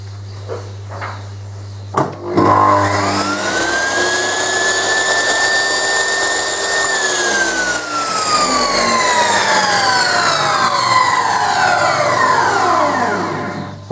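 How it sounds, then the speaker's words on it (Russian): A band saw table driven by a powerful brushed motor starts with a click, then spins up into a loud, rough whine that holds steady for several seconds before winding down as the motor coasts to a stop. "Работает, конечно, грубо, потому что это коллекторный двигатель, но зато мощный двигатель"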